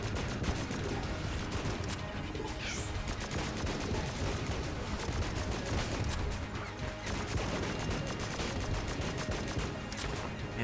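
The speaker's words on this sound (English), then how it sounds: "And the explosion from the strafe gun is just so weak." Dense video game gunfire and strafe gun explosions from Enter the Gungeon, a continuous rattle of rapid shots and crackling blasts with a brief rising whistle, steady throughout.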